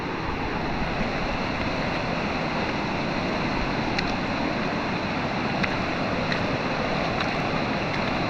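River water rushes steadily as people wade across the river toward Cavinti cave, a constant broad wash of flowing water without pause or talk.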